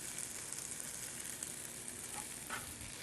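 Tomatoes seasoned with about a teaspoon of tamari sizzle in a skillet, a steady, faint frying hiss with occasional soft crackles and a stirring scrape near the end.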